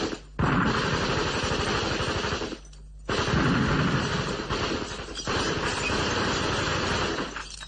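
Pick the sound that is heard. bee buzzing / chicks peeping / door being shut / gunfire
gunfire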